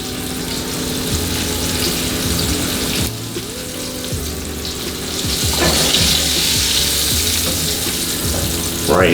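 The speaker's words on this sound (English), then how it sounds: "Right, you're getting a nice sear." Pork chops searing in a hot pan give a steady, loud sizzle throughout, with some clatter and a water-like hiss and a few sharper crackles near the end.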